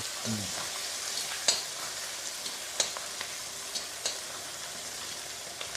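Onions sauté in a pan for a red chutney with a continuous close frying crackle, and sharp spatula taps land every second or so.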